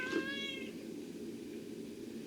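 A pet cat lets out a single clear meow near the start, close and fairly quiet, followed by a soft steady background hum.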